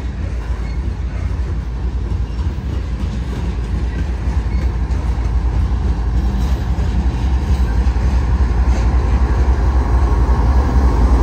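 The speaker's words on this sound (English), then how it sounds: "A train full of corn." Loud freight train passing close by with cars hauling corn, a heavy continuous rumble with steady wheel clatter that grows slightly louder over time, no talk.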